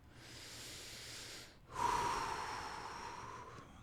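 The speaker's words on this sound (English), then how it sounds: "just take a big deep breath" A deep breath taken during a relaxation exercise: a long inhale, a brief pause, then a fuller, slow exhale, close and alone in a quiet room.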